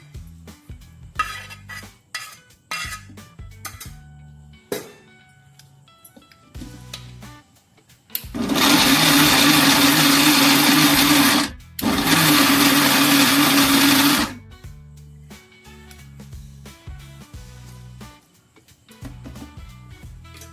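Mixer grinder whirring loudly for about six seconds in two bursts with a short pause, coarsely grinding lightly fried bottle gourd and tomato pieces for a South Indian-style chutney, with clinks and kitchen handling before and after.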